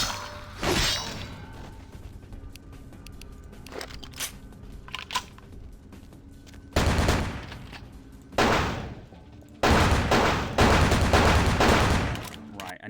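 Bursts of enemy gunfire in Vampire: The Masquerade - Bloodlines, a short volley early on and then loud, sustained fusillades toward the end with crashes, alone without talk.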